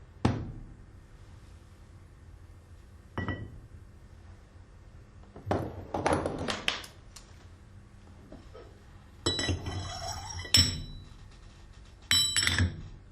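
Metal parts of a valve tool are set down in separate bursts of clinks, knocks and sliding scrapes with quiet pauses between, close and fairly loud.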